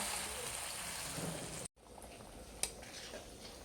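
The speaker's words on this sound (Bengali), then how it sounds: "এখন পরিমাণ মতন ঝোলের জন্য জল দিয়ে দিব" Water pours steadily into a pan of tengra fish curry with stalks and potatoes, a loud continuous rushing hiss that cuts off briefly and then resumes more softly.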